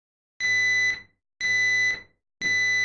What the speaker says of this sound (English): a horn sound of a smoke alarm